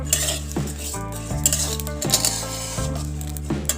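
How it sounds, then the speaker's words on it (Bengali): A metal spoon scrapes and clinks against a pan as rice is stirred continuously over low heat for a Bengali sweet, with ringing metallic knocks arriving every half second or so under a faint sizzle. "কন্টিনিউ এটাকে নাড়তে হবে যেন নিচে পুড়ে না যায়।"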